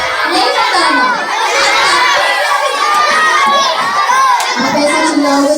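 A big group of schoolchildren at a one-day student event shouts and cheers together, a loud, sustained chorus of young voices filling the whole stretch without pause.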